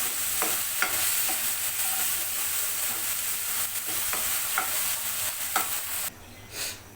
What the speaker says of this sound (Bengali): আমি চিংড়ি মাছটা এই যে তেলের উপরে দিয়ে মশলা সহ কষিয়ে নিচ্ছি